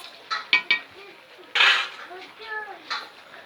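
A utensil stirs fish curry in a metal pan, giving a few quick clinks followed by a longer, louder scrape and softer knocks against the pan.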